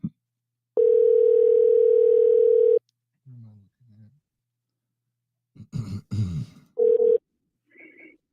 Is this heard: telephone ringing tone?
yes